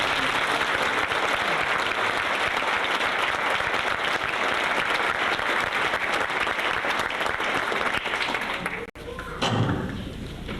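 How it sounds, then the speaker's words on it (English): Audience applause at a school speech contest, steady and loud clapping filling the room for about nine seconds before a sharp thump and a quieter stretch. "How about a round of applause?"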